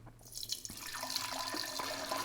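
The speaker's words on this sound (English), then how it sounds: "And our next thing is we need to add some water." Fresh, clean water pours from a tap into a ceramic flower vase, a steady close trickle and splash with small drips, filling quickly and continuing without pause.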